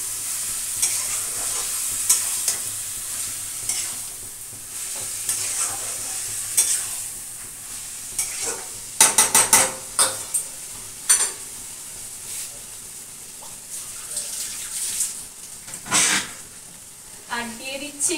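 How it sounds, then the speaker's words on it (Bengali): Spice powder paste fries in a pan with a continuous sizzle while a utensil stirs and scrapes through it, bright hissing under occasional clinks, and someone talks briefly. "এবার দিয়ে দিচ্ছি এই মশলার গুঁড়োর পেস্টটা"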